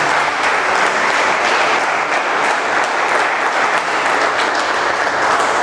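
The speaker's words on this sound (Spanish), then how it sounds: "Dele palmas al Señor," A church congregation claps their hands during a Spanish-language worship service, a dense, steady roar of applause throughout, loud and close with no break.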